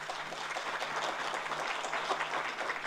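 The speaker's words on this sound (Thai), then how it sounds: "เข้าเสียงปรบมือให้กับคุณปูปรียาด้วยนะครับ" Audience applause at a Thai commemorative ceremony welcoming a UNHCR goodwill ambassador, steady, even clapping heard at a moderate distance and fairly faint throughout.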